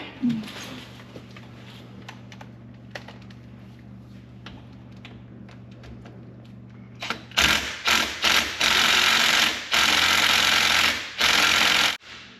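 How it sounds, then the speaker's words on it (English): Impact wrench on the bolts of a Polaris during a DIY oil, filter and brake service: quiet workshop sounds first, then loud close bursts of rattling hammering in several short runs. "why bust your knuckles using a ratchet when you just hit it with an impact?"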